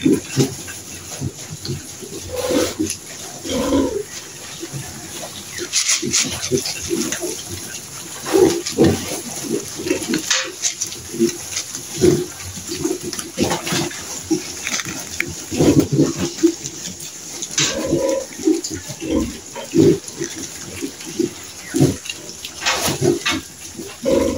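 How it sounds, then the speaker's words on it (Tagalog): Lively piglets on a hog farm, a busy mix of grunts, squeals and snuffling that rises and falls throughout, close by over a steady background hum. "Itong alagang biik. Masisigla po sila."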